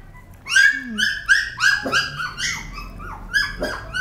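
A 25-day-old puppy whimpering and yipping while being bottle fed, a series of close high-pitched whines and squeals in quick succession.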